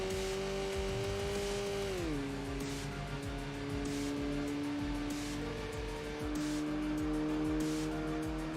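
A Nissan Elgrand minivan's engine in the racing game Enthusia Professional Racing drones steadily as it bogs on a hill, its pitch dropping once through a shift before holding a strained hum.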